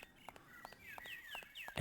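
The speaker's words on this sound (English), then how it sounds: "The soft, supple sounds of birdsong" Faint birdsong with quick rising chirps and whistled notes, repeating in a loose rhythm several times within a couple of seconds.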